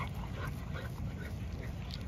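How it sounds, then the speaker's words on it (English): A fast, strong Camelot dog making low, steady dog vocal sounds, close and continuous, with no speech over it. "Fast, strong dog."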